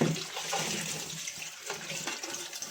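Salted radish leaves are rinsed in water, giving soft, continuous sloshing and trickling close by, with no talk.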